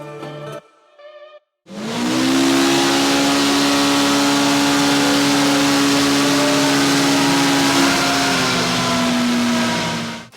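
Polaris RZR Pro R engine held at high revs on a dyno for a stock baseline run. A loud, steady droning roar lasts about nine seconds after a brief, quieter start, with no voices.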